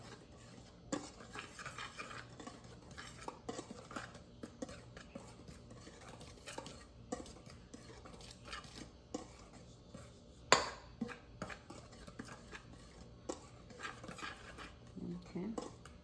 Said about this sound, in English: Use a dry spatula to mix all the ingredients.